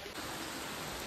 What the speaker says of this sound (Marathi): पाऊस पडायला लागला म्हणून आम्ही यांच्या शेल्टर मध्ये येऊन थांबलोय